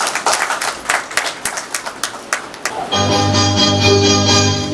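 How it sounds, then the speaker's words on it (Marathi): Audience clapping at a retirement function comes in scattered, uneven bursts for about three seconds, then gives way to steady music with a sustained tone. "टाळ्या वाजवू आपण या चौकोनी कुटुंबासाठी"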